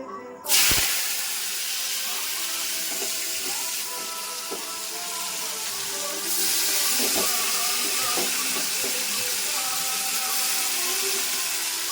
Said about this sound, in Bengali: তো চলো আলুগুলো এখন ভাজবো, তেলটা গরম হয়ে গেছে।